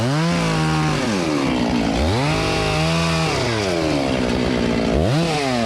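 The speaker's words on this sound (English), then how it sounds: "I'll cut on the flat cut of my open face notch" A chainsaw cuts the flat cut of an open face notch in a silver maple, running loud and continuous with its pitch dipping and recovering several times as the bar bogs into the wood.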